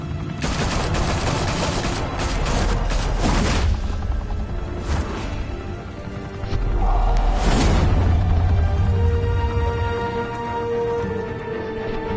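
Heavy gunfire erupts in the Batman Telltale Series video game, loud overlapping bursts and rapid volleys with a few booming blasts, close and dense, then easing into rumbling smoke and debris with scattered shots.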